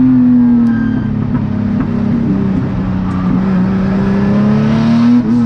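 Nissan 180SX race car competing in a National Sports Sedans race at Winton, engine howling loudly and continuously under hard acceleration, pitch climbing steadily close to the microphone.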